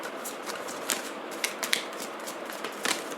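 Tarot cards being shuffled during a reading, a run of soft papery riffles and flicks with a few sharper snaps, close by and without speech.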